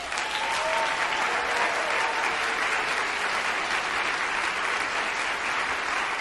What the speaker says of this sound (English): let's have a special round of applause for Donna Loewy